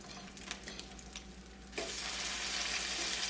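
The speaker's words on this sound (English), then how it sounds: "We're gonna flip this bacon." Bacon sizzles in a pan with light crackles, and partway through, as it is flipped, the sizzle suddenly swells into a louder, denser hiss that continues steadily to the end.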